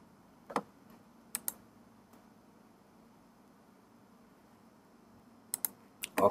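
Sharp computer mouse clicks on a Windows PC, a few isolated pairs near the start and a quick cluster at the end, close and crisp over a quiet background hum.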